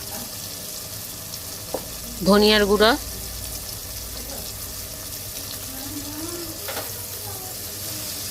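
Onion, tomato, ginger-garlic paste and spice powders fry together for egg biryani masala, giving a soft, steady sizzle in the background while a voice speaks briefly over it.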